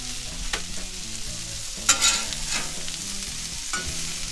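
Onions, julienned carrots and broccoli stir-frying for shrimp lo mein, a continuous close sizzle with a few scraping and tossing strokes, including one louder clatter near the middle, and no talking.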